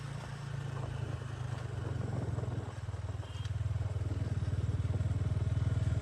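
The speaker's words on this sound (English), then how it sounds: "This engine operates at a good power band with a 6-speed gearbox." A 2024 Loncin GP 165R sport motorcycle engine, a budget bike with a six-speed gearbox, drones steadily while being ridden on the road, a loud, close, rhythmic low pulsing that builds slightly as it accelerates, with wind noise and no talking.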